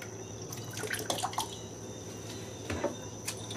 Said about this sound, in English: And we're going to add our beef broth.